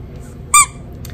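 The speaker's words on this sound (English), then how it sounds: "it has like a little squeaker" A single short, bright squeak from the squeaker in the head of a small dragonfly plush dog toy, sharp and close, with near silence before and after.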